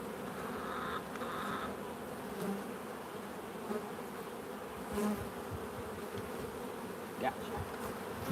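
Honeybees swarm and buzz angrily around an opened beehive during an inspection, a dense, steady drone close by with individual bees whining past now and then; no talking.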